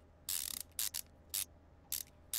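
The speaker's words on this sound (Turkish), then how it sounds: "Sol tuşa basılı tutuyorum ve sıkıyorum" Bolts tightened with a ratchet in Car Mechanic Simulator 2015, five or six quick bursts of bright, crisp ratcheting clicks separated by short pauses over a low hum, close and distinct.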